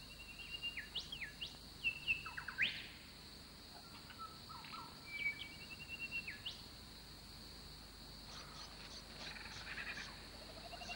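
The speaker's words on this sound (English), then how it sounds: "Grey thrush's songs are loud and melodious, and can be heard most of the year." Clear, melodious grey thrush song rings out in repeated phrases against a steady background of insect and cricket trilling in an Australian rainforest.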